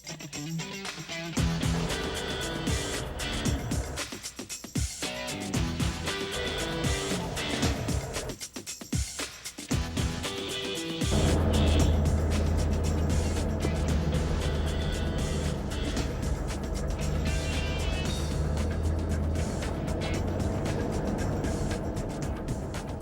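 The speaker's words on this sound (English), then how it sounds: "if we're going to go four-wheeling, what better way to do it on the beach than in the same car that Arnold's got" A Humvee four-wheeling along a beach, its engine rumbling steadily and loudly up close, with a deeper, heavier drone setting in about halfway through as it keeps driving; no talking is heard.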